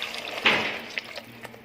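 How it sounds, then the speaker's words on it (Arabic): A small cup of water is poured into a simmering tomato stew in a clay pot, giving a brief splashing gush that trails off into soft trickles and faint drips. "هنزل بقى كوباية مية صغيرة"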